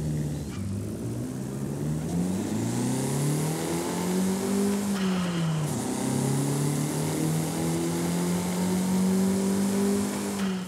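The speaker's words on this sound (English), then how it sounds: "let's go ahead and take a listen to that 2-litre" A 2-litre Alfa Romeo 155 Q4 touring car engine in Forza Horizon 5 revs up and down continuously, rising and falling in pitch with a brief dip midway, loud and close, no talking.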